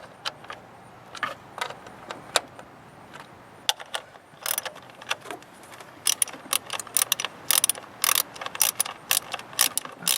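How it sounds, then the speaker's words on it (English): A socket wrench ratchets on the spark plugs of a 2011 Nissan Altima 2.5 SL, producing rapid close clicking bursts that grow denser and louder toward the end, with no talk over them. "this socket wrench doesn't seem to work very well"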